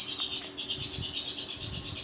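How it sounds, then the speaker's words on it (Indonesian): A pet bird chirps continuously in a high, steady twitter, fairly close and alone with no talking. "Mohon maaf ya kalau ada suara burung, ada peliharaan saya nih."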